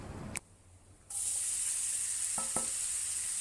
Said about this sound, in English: Heat some mustard oil in a pan over medium heat.